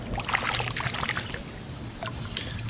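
An old glass bottle rinsed in river water while mudlarking, a steady close splashing and swishing of water with small sloshes throughout, no speech.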